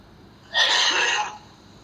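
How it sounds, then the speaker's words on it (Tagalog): One short, harsh cough, close by, breaking a quiet background. "Parang ubo ng ano yan, may TB."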